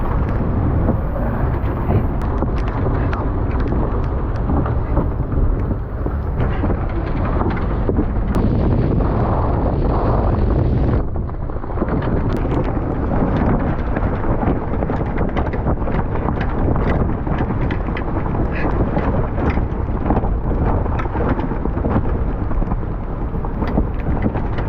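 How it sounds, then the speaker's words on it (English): Gale-force wind buffets a boat anchored in the Florida Keys, a loud, continuous roaring rush with gusty surges and rattling, slapping bursts that keep on throughout. "We're still getting wind."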